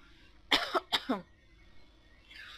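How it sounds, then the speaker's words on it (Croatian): Two sharp, close coughs in quick succession, followed by quiet and a faint rustle. "kako ovo glupo kad me uhvati kašalj u sred videa"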